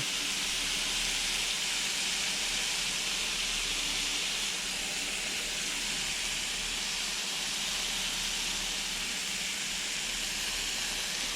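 Steady, broad sizzling hiss of buns toasting on a hot Blackstone flat-top griddle, continuous and close with no talk over it.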